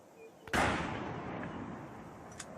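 A single rifle shot fired for a high-speed shock-wave filming experiment: one sharp, loud crack followed by a long, slowly fading roar, with a faint click near the end.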